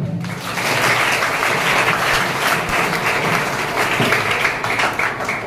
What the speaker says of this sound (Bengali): ওনার জন্য আরো একবার হাততালি।